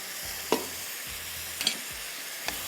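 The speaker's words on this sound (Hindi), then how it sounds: "जब तक ये कि चिकन थोड़ा सा गल रहा है और भुनाई इसकी हो रही है" Chicken sautés in a pan with ginger and garlic, a steady soft sizzle broken by a few sharp clinks and scrapes of a stirring spoon against the pan.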